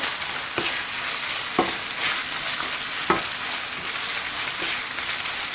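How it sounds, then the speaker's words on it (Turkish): A spiced mixture with pepper and black pepper sizzles in a frying pan while a utensil stirs and scrapes it, with a few soft knocks against the pan at steady intervals. "Güzelce karıştıralım."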